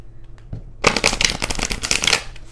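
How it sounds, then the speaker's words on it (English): A deck of cards is shuffled close up, a dense burst of rapid riffling flutters after a few faint handling taps, lasting a couple of seconds at fairly loud volume. "shuffle my deck, that would be great."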